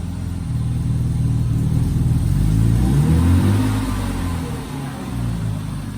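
Close by, a BMW E36 M3 engine revs up from idle into a swelling roar during a clutch test, then eases back to a lower, steady drone.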